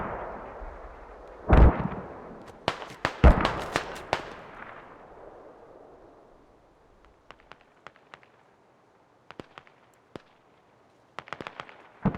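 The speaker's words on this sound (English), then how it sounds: "Mortars incoming there." Incoming mortar rounds in the video game Squad, a couple of heavy booming impacts early on followed by a series of sharper distant cracks and pops scattered across the rest of the stretch.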